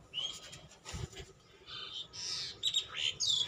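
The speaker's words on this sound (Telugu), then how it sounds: "పక్షులు అరుస్తున్నాయి, నేను ఇక్కడ తినేస్తానని." Small birds calling around a fig plant in a home garden, a scatter of high chirps and tweets coming in quick bursts over a quiet background.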